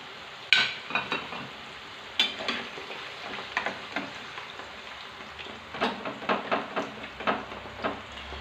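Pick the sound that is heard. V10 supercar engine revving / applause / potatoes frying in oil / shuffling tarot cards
potatoes frying in oil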